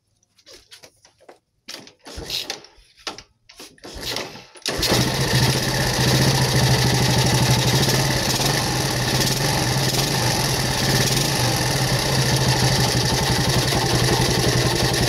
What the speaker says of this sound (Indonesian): motornya udah hidup